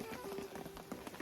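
Rain patters steadily at a rest post on a mountain trail, a dense, close wash of drops with a few louder taps and no voices.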